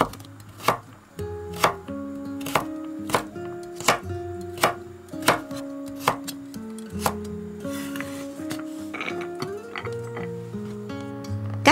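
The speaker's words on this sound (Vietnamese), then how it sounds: "Cà rốt mình cũng cắt hạt lựu luôn." Carrots being diced with a knife on a cutting board, a steady series of crisp chopping knocks about once a second, close and clear over soft background music.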